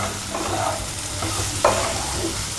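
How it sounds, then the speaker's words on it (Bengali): Potatoes frying in oil with turmeric in a pan, a steady close sizzle with occasional stirring scrapes and a brief louder crackle partway through, no talking. "আপনারা এটা ভাজবেন আলুটা তেলের ওপর।"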